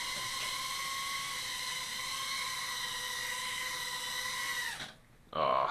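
A Syma X12S Nano quadcopter drone comes in to land with a steady, high-pitched whine of small rotors that spools down abruptly and cuts out. It is followed by a brief rustle close by.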